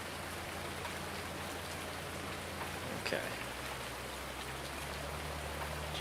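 Heavy rain falls in a farming video game set on a Wisconsin farm map, a steady close hiss of drops spread evenly throughout, with a brief spoken word and a low engine hum underneath.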